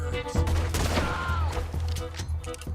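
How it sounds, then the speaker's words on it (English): Gatling gun firing in Red Dead Redemption 2, a loud rapid volley of shots with a whizzing streak, close and dense, amid game sound. "That boy's gonna get on the Gatling gun."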